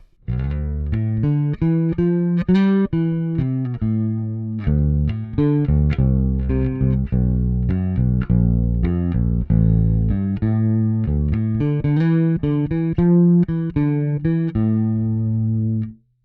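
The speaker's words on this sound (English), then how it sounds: "Chorus and reverb on my DI signal" A bass guitar DI signal run through a Kemper Profiler with chorus and reverb plays a melodic line of plucked notes, warm and shimmering with a soft wash trailing each note, steady and alone without talk.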